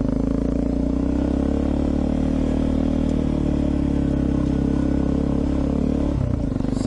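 A dual sport motorcycle climbs uphill in second gear on a Kara Kara adventure ride, engine droning loud and steady with clattering chassis noise, easing briefly near the end, no talking.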